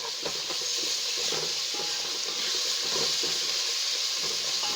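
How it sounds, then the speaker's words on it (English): Tomato paste sizzling and frying with spices in a pot for coconut pilau, a steady close hiss with faint crackle throughout and no voices. "We'll now put in the tomato paste so that it can fry"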